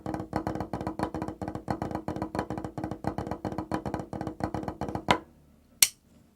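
Snare drum playing a hybrid rudiment with flams, a fast, tight stream of crisp strokes in a repeating accented pattern, close and clear, ending with a final accented hit.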